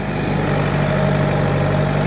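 A tractor engine working at the limit of its load while handling heavy firewood logs, heard as a loud, constant, close droning hum with a steady tonal whine running through it.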